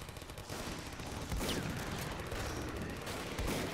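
Dense gunfire fills a chaotic fight in the zombie shooter game Killing Floor, with continuous loud shots and booms layered over each other in a sustained, noisy barrage.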